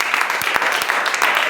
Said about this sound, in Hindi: क्या आप ताली दे सकते हैं?